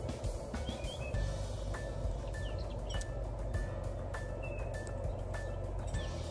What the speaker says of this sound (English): Anyway, I love the birds here.